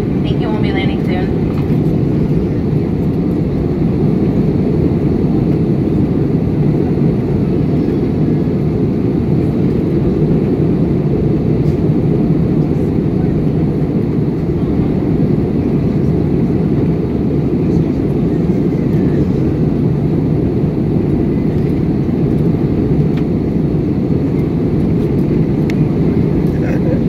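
Frontier Airlines Airbus A320 cabin noise during descent into Bozeman, Montana: a loud, steady broadband engine and airflow roar that holds unchanged throughout.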